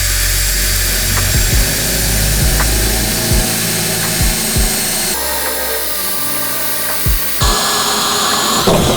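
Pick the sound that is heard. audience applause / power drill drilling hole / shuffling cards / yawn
power drill drilling hole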